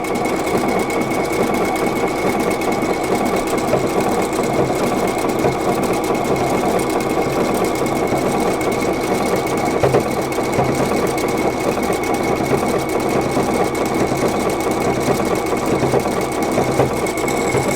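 A PFAFF Creative Icon sewing machine runs steadily and loudly, stitching a seam with an overcast stitch in one continuous, even mechanical whir with no talking.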